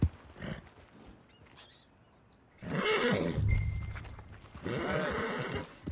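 A horse whinnies in Red Dead Redemption 2, with louder bursts in the second half over hoof clops and outdoor ambience; no one speaks.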